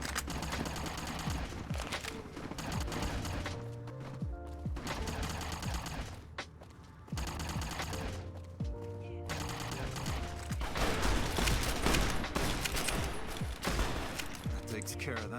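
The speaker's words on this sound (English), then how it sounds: "let's pull out the plasma rifle then" Repeated shots from a plasma rifle in the game Fallout New Vegas, rapid bursts mixed with game music and effects, with someone talking over the firing.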